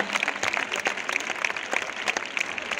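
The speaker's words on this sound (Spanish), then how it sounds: "un fuerte aplauso para ellos" Concert audience applauding a band during band introductions at a show in Málaga, a dense steady patter of many hands with occasional louder claps, moderately distant and sustained throughout.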